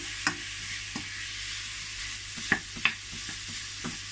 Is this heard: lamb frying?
yes